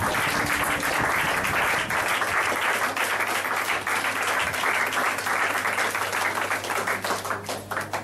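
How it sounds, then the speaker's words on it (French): A church congregation applauds and claps together with steady intensity, a dense wash of hands that fades slightly near the end, under a low background hum. "Acclame Jésus, acclame Jésus"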